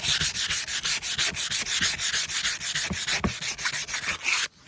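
Rust is sanded off a metal front rack by hand in fast, rhythmic back-and-forth strokes, a steady close scratchy rubbing that stops abruptly at the end, with no talk.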